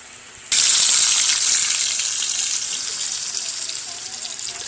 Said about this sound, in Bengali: আমার আলু ভাজা হয়ে গেছে বন্ধুরা, দেখতে পাচ্ছেন কত সুন্দরভাবে আলুটা ভেজে নিয়েছি।